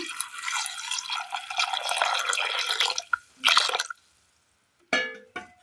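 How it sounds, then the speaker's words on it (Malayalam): Hot water pours into a pot of jackfruit seeds for a Kerala country-style curry, a steady splashing stream for about three seconds, then a short second pour and a few brief drips and clinks, close and fairly loud. "വേകുവാൻ ആവശ്യമായ ഒരൽപ്പം ചൂടുവെള്ളം ഒഴിച്ചു കൊടുക്കാം."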